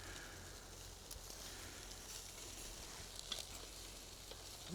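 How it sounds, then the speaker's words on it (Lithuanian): Shashlik skewers sizzle on a grill outdoors in a faint, steady hiss with soft occasional crackles, close but quiet and without talk. "Mūsų šašlykų kepimas jau į pabaigą"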